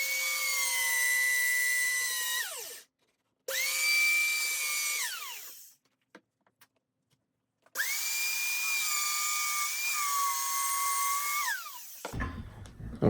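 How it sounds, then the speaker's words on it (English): A dowel joining machine's twin drill bits spin up and plunge into wood in three long whining bursts with steady pitch, each dropping off as the motor winds down, separated by short silences. "I'm going to plunge into the material when the drill bits come up to speed."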